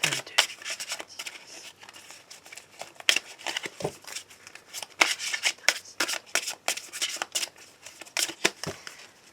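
Petit Lenormand cards shuffled for a card reading, a steady run of crisp riffling and slapping card sounds, close and fairly loud, with no talking.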